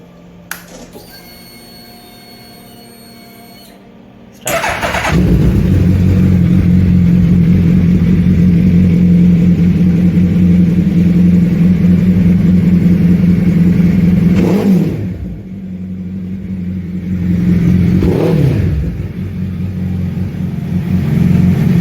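A custom-built motorcycle engine starts up after a faint clicking and whining lead-in, then runs loudly and steadily close by, dipping briefly around fifteen seconds and climbing again in short revs.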